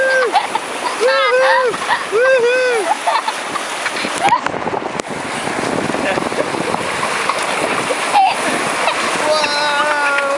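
River rapids splash and rush loudly around a ride vessel, with wind buffeting the microphone and excited voices shouting and cheering over the water.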